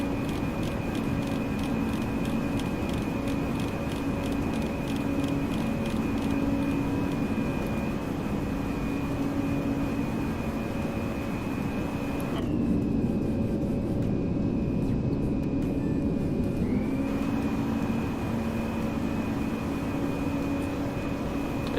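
Simulated Airbus A340-300 jet engines in X-Plane 12 spooling up, a steady loud roar with sustained whining tones that shift pitch midway as thrust changes, alone without talk.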